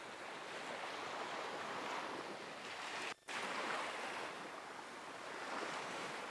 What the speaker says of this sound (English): Tuning into the sound of the waves here to soothe you.